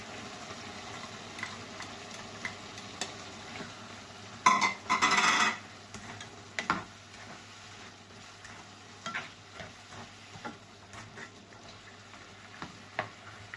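Carrots are stirred into frying rice with lentils, shrimp and bacon, a faint low sizzle under a brief burst of louder scraping and clatter of a utensil against the pan, then soft ticking stirs.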